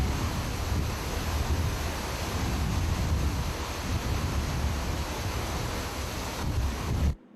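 Hurricane Katrina's roaring wind and storm surge waves at Gulfport, Mississippi, a dense, unbroken rush of wind and pounding surf with heavy microphone buffeting, loud and steady throughout before cutting off abruptly at the end.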